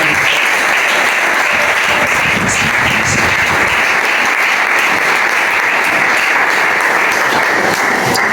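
A church congregation claps and applauds steadily and loudly for several seconds, a dense, even wash of hands from a large crowd with no break.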